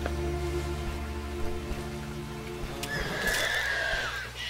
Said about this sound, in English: Something that sounded like a horse.